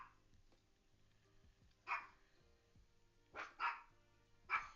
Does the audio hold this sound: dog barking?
yes